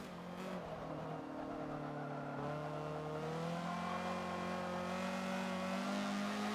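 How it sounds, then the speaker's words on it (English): A Honda CRX corners on Forza's Dubai Mountain track, its engine droning steadily up through the gears with a continuous tonal whine that shifts pitch. A faint, sustained tire squeal sits under the engine. "Kind of listen to the tires here these next few turns."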